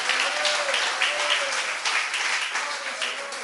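A church congregation claps together in steady, sustained applause, a thick wash of hands from start to finish with faint voices underneath.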